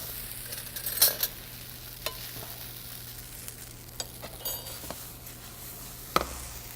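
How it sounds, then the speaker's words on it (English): Spaetzle cooking in butter in a pan, a steady soft sizzle with a few sharp utensil scrapes and taps scattered through, close and moderately quiet. "Spatzely start to cook up a little bit."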